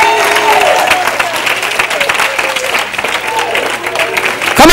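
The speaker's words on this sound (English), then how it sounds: "Clap your hands and tell him thank you." Church congregation clapping hands in loud, dense applause for several seconds, with voices and a speaker calling out over the clapping.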